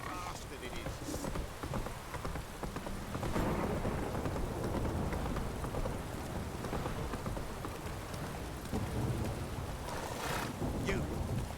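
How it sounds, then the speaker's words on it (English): Heavy rain pours down in The Witcher 3: Wild Hunt, a dense steady hiss with occasional rumbles and brighter bursts, while a person talks over it. "This downpour's a bastard,"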